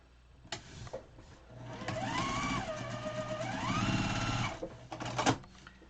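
Sewing machine stitching a small Moda quilt block, running steadily for about four seconds with a rising and falling whir, preceded and followed by a few clicks and handling sounds.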